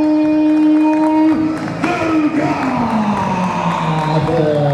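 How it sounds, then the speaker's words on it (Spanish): Fight-night crowd at an Invictus Fighters event cheering and applauding as a fighter is introduced: a loud, sustained roar with whoops and yells, while an announcer's long drawn-out call rings over the top. "fuertes los aplausos para Leandro"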